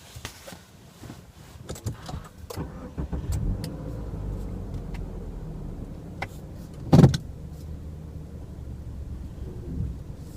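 A 2016 Subaru Outback drives over a bumpy gravel and dirt off-road trail, heard from inside the cabin as a low, continuous road rumble. Scattered knocks and jolts punctuate it, including one sharp thump partway through.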